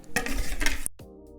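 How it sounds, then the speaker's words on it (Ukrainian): A utensil clatters and scrapes steadily against a bowl of eggs and green onion for under a second, then stops abruptly, leaving quiet. "Я перемішала яйці із зеленою цибулею"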